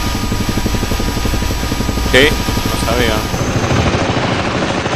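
A helicopter in the video game Arma 3 gives a loud, constant rotor thump and turbine drone close by, while players talk briefly over it.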